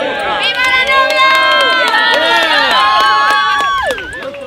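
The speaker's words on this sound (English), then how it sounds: "A round of applause for the bride," Wedding guests cheering and whooping for the bride, loud excited voices layered over one another with scattered claps, sustained and close.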